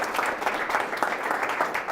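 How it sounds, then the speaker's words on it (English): Audience applause fills the room, dense steady clapping from a crowd, sustained throughout without a break. "Clap it up for him, guys."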